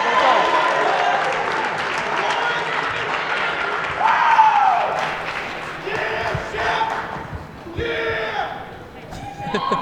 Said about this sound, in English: We haven't had a crowd in a while. I forgot what that sounded like.